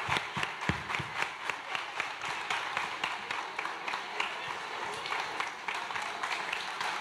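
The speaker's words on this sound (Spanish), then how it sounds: "Que no paren los aplausos," Audience applause for performing artists at a community event in Saravena, Arauca, a steady wash of clapping with some voices mixed in, moderately distant and sustained throughout.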